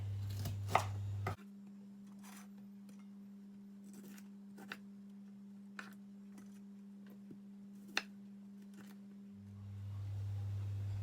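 A knife chops vegetables such as broccoli stems and peppers on a board, with a few sharp, sparse cuts over a steady low hum in a home kitchen.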